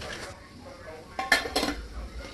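Cooked dal mashed in a metal pot, heard as a few scraping clanks and clinks of utensil on metal that grow louder in the second half, with no talking.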